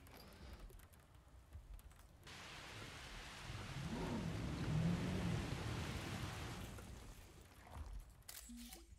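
Storm raging in the video game Jurassic World Evolution, with a steady wash of rain that swells toward the middle, low rumbling thunder underneath and a few game interface tones near the end.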